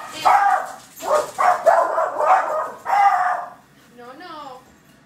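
Puppies yap and bark in short, close bursts, with a voice also present, ending in a few higher, wavering yelps.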